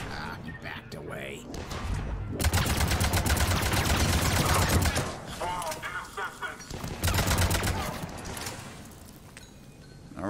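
Bursts of rapid gunfire in the Mass Effect 3 Omega DLC, loud sustained volleys in two main stretches with brief gaps, and a voice talking over the shooting.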